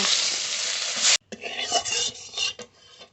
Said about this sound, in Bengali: এই পটল মাছগুলো একইভাবে ভেজে নেব